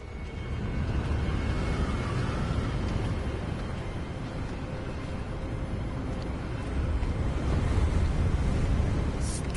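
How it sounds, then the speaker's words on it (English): Steady wind gusting across open ground in the Hogwarts Legacy video game, a broad continuous rushing roar with a faint surf-like wash, loud and unbroken with no voices. "It's gotten windy too."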